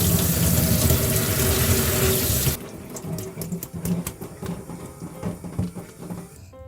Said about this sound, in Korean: 단무지 건강하게 드시려면 찬물에 한번 씻어 주시는 게 좋다고 하네요.